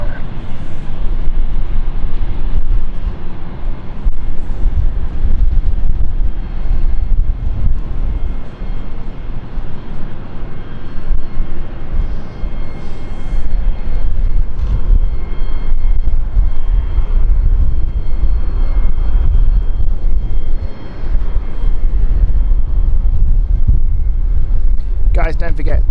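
A fixed-wing aircraft takes off from runway 27 at London City Airport, its engines giving a loud, sustained roar that fills the whole stretch with little change.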